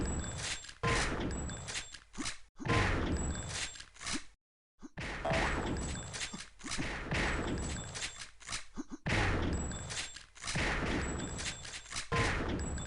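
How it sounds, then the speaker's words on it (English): Rapid gunfire in a Sauerbraten instagib one-on-one duel, a dense run of loud, sharp shots and pickup dings with a single brief silent gap midway and no talk. "Both players are just trying to find new and faster ways to shoot each other."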